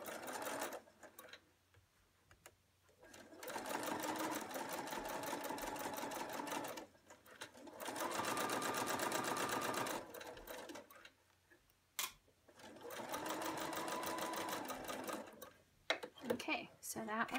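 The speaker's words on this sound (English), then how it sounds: "you might want to slow down a little just to give your machine the ability to go up and over extra thickness" A sewing machine stitches a composition book cover over thick, bulky layers in three steady runs of rapid mechanical ticking, separated by pauses; the machine is close and moderately loud, with quiet handling sounds in the gaps.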